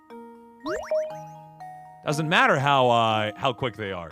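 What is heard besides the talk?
online meeting start notification chime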